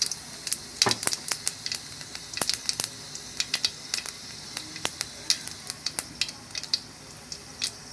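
Panch phoron seeds hit hot oil and crackle sharply, with rapid irregular pops and spits over a low continuous sizzle, close and fairly loud throughout.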